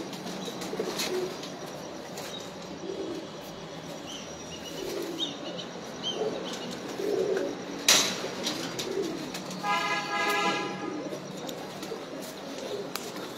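Pigeons cooing softly amid outdoor ambience, with a brief flutter of wings and faint chirps, moderately distant and continuous over about thirteen seconds.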